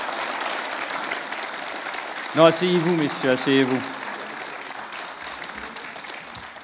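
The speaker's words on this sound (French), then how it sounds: "C'est ça les applaudissements ?" Audience at a conference inauguration applauding elected officials, continuous clapping running underneath while someone speaks briefly in the middle, then fading to lighter scattered claps.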